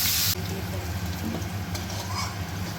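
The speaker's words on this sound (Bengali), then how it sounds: "কড়াইতে সাদা তেল দিয়ে কেটে রাখা আলুগুলোয় নুন হলুদ মাখিয়ে ভেজে তুলে নেব।" Potato pieces coated with salt and turmeric fry in white oil in a kadai. A brief loud hiss at the start settles into a steady, close bubbling sizzle.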